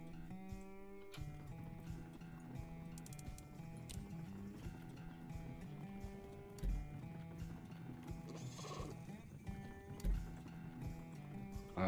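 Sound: horse in the video game Depraved

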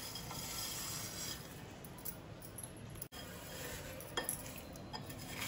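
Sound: stirring roasted Maggi noodles into bhel mixture

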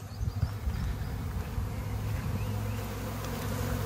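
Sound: honeybee swarm buzzing outside a hive

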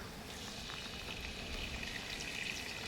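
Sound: whole spices (cardamom, clove, cinnamon) sizzling in hot mustard oil

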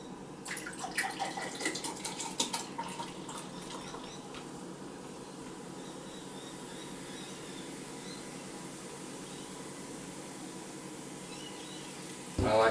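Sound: pouring Pepsi Max into a glass

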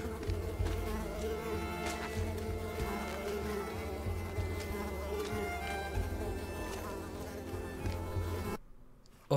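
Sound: buzzing mosquitoes in the video game Unravel

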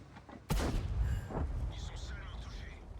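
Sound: tank gun shot in World of Tanks video game

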